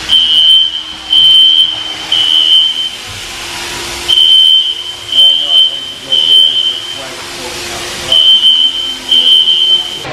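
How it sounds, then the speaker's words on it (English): Fire alarms sound inside the Amoeba Music store with repeated shrill electronic beeps in on-off bursts, loud amid crowd murmur and people talking. "the fire alarms have stopped"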